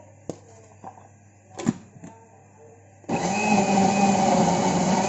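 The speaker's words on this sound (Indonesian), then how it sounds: "Kita blender." A few light clicks and knocks, then a kitchen blender whirs to life blending chilies with broth, running loudly and steadily at close range.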